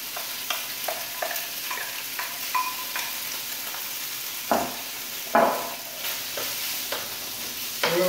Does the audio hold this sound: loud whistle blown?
no